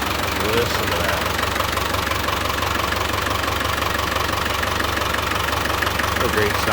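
A 1994 Land Rover Defender 90 four-wheel drive with a turbo diesel engine and five-speed manual idles close by with a steady, knocking clatter, while a voice talks over it.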